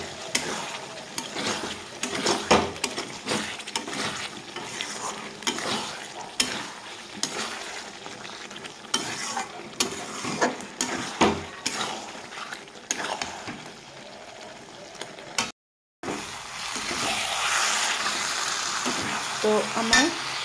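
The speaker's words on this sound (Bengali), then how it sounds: "কষিয়ে নিব মাংসটা।" Mutton for Bengali mutton kosha is stirred and fried in a pot, repeated rhythmic scraping and clanking of a ladle over a constant sizzle, close and fairly loud, with a brief break in the sound before frying resumes.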